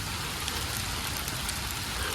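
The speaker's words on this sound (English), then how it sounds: "Under the intense pressure of the rainfall" Steady rain pours down during a disc golf round, a dense, even hiss of drops striking the ground close by, loud and unbroken with no voices.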